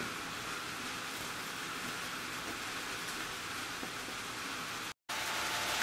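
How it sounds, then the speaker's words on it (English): Steady rain falling around a 1966 Chevy C10 pickup, a continuous broadband hiss at moderate level that cuts out for an instant near the end before resuming. "It's still raining, but at least we can get in here and see if this junk will run."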